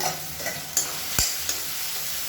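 Soft steady sizzling of onions sautéing in a pan with a few scraping stirs, no voices.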